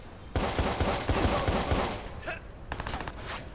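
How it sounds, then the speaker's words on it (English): Enemy gunfire in the video game Watch Dogs: rapid bursts of shots crackle for about two seconds, then fade and return as scattered, sharper reports, loud and close with no talking. "He saw me? Yeah, he saw me. That's why he's shooting."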